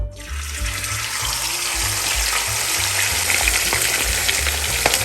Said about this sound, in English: We're gonna be deep frying the meat.